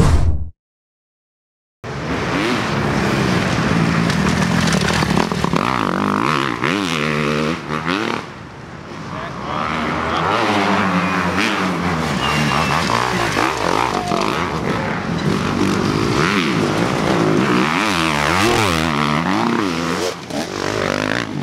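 A Kawasaki KX 250 XC off-road motorcycle at a GNCC cross-country race, its two-stroke engine revving and wailing loudly and continuously with rising and falling pitch, after a brief silence at the start.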